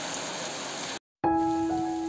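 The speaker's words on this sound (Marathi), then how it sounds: "पाऊस पडायला पण सुरुवात झालेली आहे" Rain falling by a swollen river in the Konkan, a steady hiss of drops that cuts out briefly and then resumes with a faint tonal hum underneath, continuous and even, with no talking.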